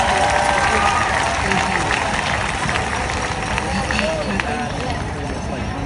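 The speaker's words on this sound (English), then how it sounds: "Ladies and gentlemen, give her a round of applause." Crowd at an outdoor women's rally in Bayfront Park, Miami, clapping and cheering in a dense continuous roar, with voices shouting over the applause.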